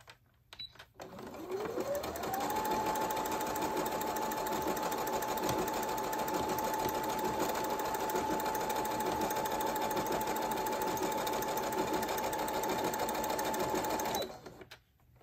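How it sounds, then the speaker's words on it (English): Brother CS7205 sewing machine sewing a blind hem stitch, motor winding up quickly and then running at a steady, even whir for about twelve seconds before stopping, close and clear with no talk. "let's go ahead and sew this and do this blind hem"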